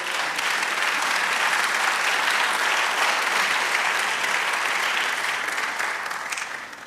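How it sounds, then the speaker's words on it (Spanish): Congregation applause in a church service, a full, continuous wash of clapping from many people that stays loud and even for several seconds before easing off at the end. "Dale aplauso al Señor."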